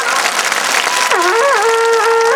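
A crowd claps to welcome a Congress party district president at a political rally in Ballia, the dense applause running throughout, with a sustained wavering tonal voice or sound rising over it partway through.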